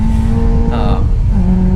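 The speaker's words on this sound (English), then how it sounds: "I was revving the shit out of this FRS as much as I can." Toyota FRS engine revving hard on a race track at Streets of Willow, a loud steady engine drone with a short rising rev partway through, close to the microphone with no talk over it.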